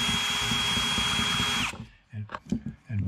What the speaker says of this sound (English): And you take a wall electric valve grinder.